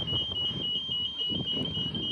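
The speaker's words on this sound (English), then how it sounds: "it's beeping because the Midland train's on platform 8" A steady high-pitched electronic warning tone from a pedestrian level-crossing alarm at McIver Station, sounding continuously and fairly far off over low rumbling background noise, triggered by a Midland train on platform 8.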